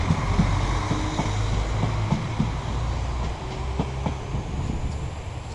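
Train passing close by, a loud, continuous rumble with rhythmic clickety-clack of the wheels that holds steady throughout, with no talking.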